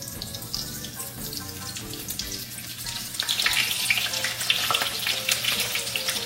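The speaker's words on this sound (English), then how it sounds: "I'm gonna start frying them because they don't take long to fry." Oil sizzles and crackles as food fries, a bright, continuous spattering that intensifies partway through, with faint clinks and tonal background sounds.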